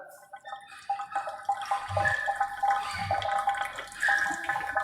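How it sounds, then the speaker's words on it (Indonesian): Water gushes from a tap in an old, reputedly haunted hospital building in Bandung, starting faintly and swelling into a splashing, irregular flow with drips, heard up close and alone. "ya kayak semacam air keran ini nyala loh geng"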